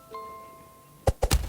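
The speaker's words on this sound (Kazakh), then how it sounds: "қазір гранатамен жарамыз" A grenade blast in a forest-themed survival video game: after a quiet lull, a cluster of loud, deep booming bursts hits in quick succession near the end, alone without talk.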